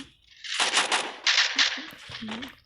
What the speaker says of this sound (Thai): จะยิงปืนเหรอก็เสียกระสุนฟรีอะครับ